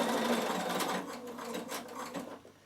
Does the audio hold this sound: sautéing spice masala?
no